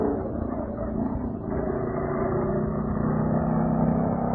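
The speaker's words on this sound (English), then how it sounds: "Do we have any sound effects for the West Peabody Speedway?" Stock car racing at a speedway, a steady muffled roar of engines droning continuously with a slight swell partway through, dull and band-limited like an old radio recording.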